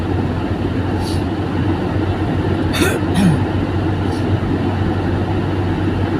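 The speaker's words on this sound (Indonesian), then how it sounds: "Ini saya mengendarai 100 km per jam." Steady low road rumble and engine drone inside a car cruising at 100 km/h on a Dutch highway between Tilburg and Breda in cold weather, a continuous interior hum with a few faint brief ticks on top.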